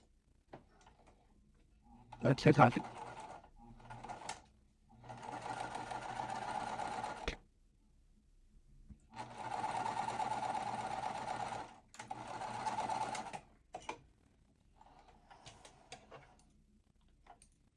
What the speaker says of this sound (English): we'll just sew along the side here